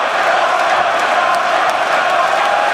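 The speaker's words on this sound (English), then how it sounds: "this crowd is giving you a warm welcome once again" A large crowd at a League of Legends esports finals roars and cheers steadily throughout, a dense wash of voices with no clear breaks.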